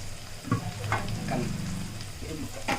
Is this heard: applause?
no